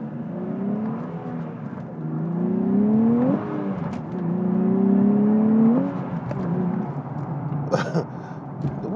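A Nissan Z sports car with a six-speed manual revs hard, its engine note sweeping upward in two long climbs with a gear change between them, loud and close.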